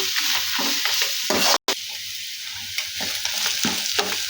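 Grated carrot frying in a pan over a low flame, a steady hiss and sizzle with repeated scraping stirs and one brief pause partway through.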